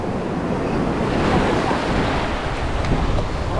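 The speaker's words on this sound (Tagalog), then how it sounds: "Talagang malaki lang alon." Big ocean waves surge and crash in a steady, loud, unbroken wash of surf, mixed with gusting wind buffeting the microphone, with no voices.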